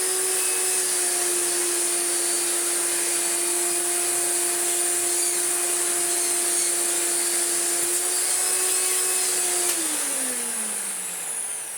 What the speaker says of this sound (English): The next thing we shall do is take the hose off, put the slider into tools mode.